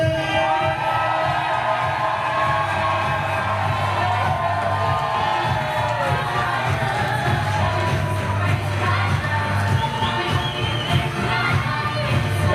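Wedding guests cheering, whooping and screaming for newlyweds introduced as husband and wife, a loud sustained crowd roar that stays steady throughout.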